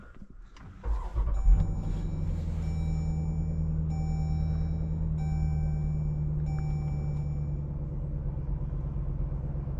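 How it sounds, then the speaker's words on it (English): A 2023 Dodge Durango SRT 392 with a 6.4-liter Hemi V8 fires up with a short burst, then settles into a deep, steady rumble, with intermittent warning chimes sounding over the engine. "today we're going for a drive in this 2023 Dodge Durango SRT 392"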